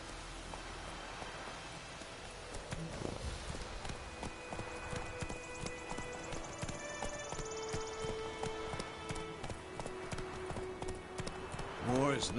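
Geralt's horse Roach trots on in The Witcher 3, hooves thudding in a steady rhythm beneath pattering rain and an orchestral score, with a voice speaking over it.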